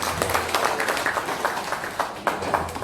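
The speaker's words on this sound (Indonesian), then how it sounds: "Aplaus kepada beliau." Audience applause at a law seminar at a university in Surabaya, a short burst of steady, dense clapping from a crowd in a hall.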